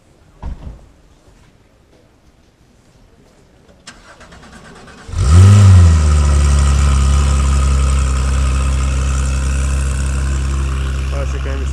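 A car engine catches after a brief crank and settles into a loud, steady rumbling idle with a slight rev, close by, at a car event in Knokke. Faint voices come before it starts.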